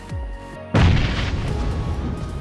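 A grenade explodes in PUBG Mobile with a sudden loud boom that rolls into a rumbling, crackling tail after a brief quieter lead-in.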